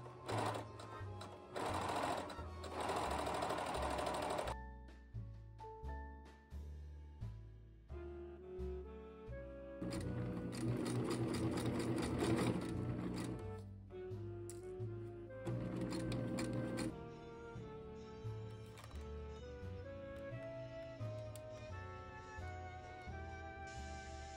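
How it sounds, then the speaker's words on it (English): A serger runs fast, sewing the seams of overalls made from a vintage bedsheet. Several long, loud whirring bursts are broken by short pauses, close up, with music playing underneath. "Now I'm just going to serge all the seams and then start working on the bias tape around the edges."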